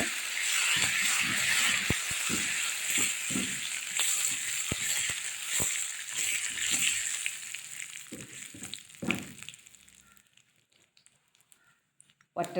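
Dried red chillies sizzle hard in hot oil for a colocasia and bilimbi curry. A close, steady crackle is broken by light stirring clicks, then it fades to near quiet toward the end, with a voice heard faintly under it.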